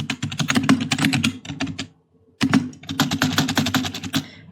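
Rapid bursts of computer keyboard typing while an email is composed in Microsoft Outlook, close and crisp, with a short pause in the middle before the clicking resumes.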